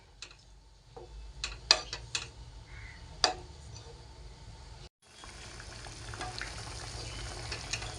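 Milk boiling in a pan for paneer, stirred now and then: faint bubbling and simmering with a few sharp utensil scrapes and taps early on, then a steadier low hiss after a brief break, no talking.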